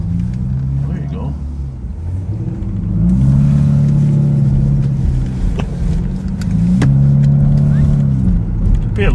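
A 4-cylinder car with a loud aftermarket muffler revs in two swelling bursts, deep and booming, each rising and falling, while people talk over it.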